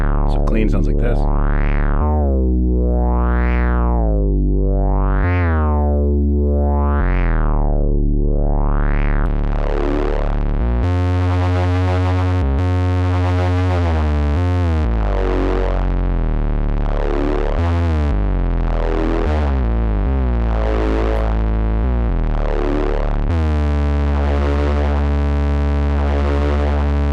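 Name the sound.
1981 Inventions DRV effect on Roland TR-606 drum machine and Moog synth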